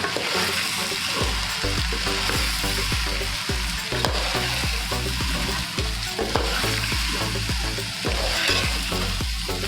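Veg pulao with carrot and beetroot stirred in a pot, loud close sizzling overlaid with rhythmic scraping strokes of the spoon repeating steadily, with no voices.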